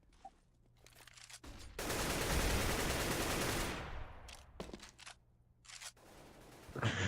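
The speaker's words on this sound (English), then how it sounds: "But Spoof is keeping close tabs on him here with his P90" P90 submachine gun fire in a Counter-Strike match on the Mirage map: a loud, dense rattling burst lasting about two seconds that fades out, with scattered shorter gunshots and clicks before and after, and no talk over it.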